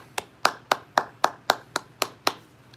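A single person claps their hands about nine times in an even, steady rhythm, each clap sharp and close, with near silence between the claps.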